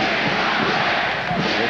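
A boxing arena crowd of about 12,000 cheers and roars steadily at a heavyweight fight, a loud, dense, unbroken wall of voices with no single speaker standing out.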